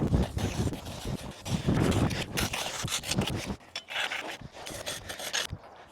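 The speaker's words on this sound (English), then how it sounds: "Time to get the shovel out and dig out this high sand spot." Shovel scraping and digging into sand on an abandoned railroad track, outdoors with wind, repeated gritty rasping strokes up close, loud and continuous with brief pauses.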